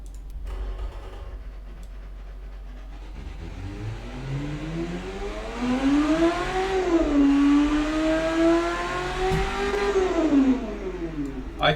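Simulated 38-horsepower car engine in the Automation car tycoon game, idling briefly, then revving up through rising and falling sweeps of pitch, held high near the redline before dropping back, loud and alone.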